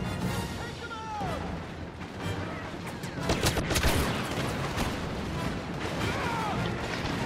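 Disruptor rifle shots and surrounding battle gunfire in Star Wars Battlefront online play, a dense, loud stream of blasts with a few sharper peaks, mixed with in-game chatter and effects.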